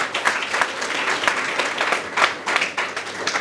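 Loud, sustained applause from an audience honoring a party secretary general at a women's resolutions ceremony, dense clapping with surging bursts throughout.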